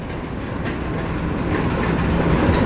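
Locomotive hauling about 80 sugarcane lorries on a cane plantation line at Jatiroto. A close, loud, steady rumble of rolling wagons with clattering wheels builds slightly over a few seconds.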